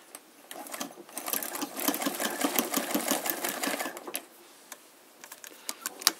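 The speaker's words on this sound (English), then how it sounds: "I love the treadle because you've got so much more control with it. You know, and then we'll go to straight stitch." Singer 319/306K treadle sewing machine running a straight stitch, a rapid mechanical clatter that speeds up and holds, then slows to a few scattered clicks, close and clear with no talking.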